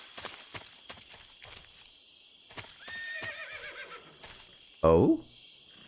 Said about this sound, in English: I hear a horse, which means more food for me.